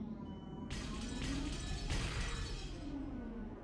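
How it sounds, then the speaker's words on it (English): Glass shatters somewhere in a mansion in the visual novel Umineko Chiru: a sudden, faint burst of breaking and crashing that lasts about two seconds and then fades. "The sounds of shattering glass could be heard from all the parts of the mansion."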